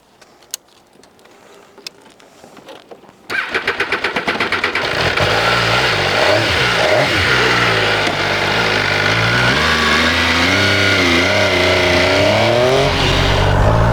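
An MV Agusta F3RR motorcycle engine starts with a few quiet clicks, then catches and idles loudly, its revs rising and falling in a steady, close, continuous roar.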